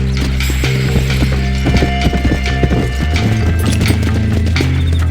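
Horse hooves clip-clopping in Red Dead Redemption 2, a steady close trotting rhythm over a low rumbling bed with mechanical clicks, loud and continuous, no talking.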